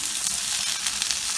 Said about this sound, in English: Saute means high heat, when you're cooking on high heat.